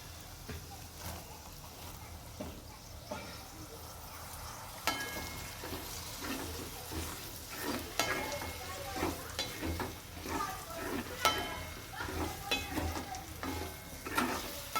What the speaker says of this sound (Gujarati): હળદર અહીંયા આપણી શેકાઈ ગઈ છે તો આપણે લીલું લસણ નાખીશું.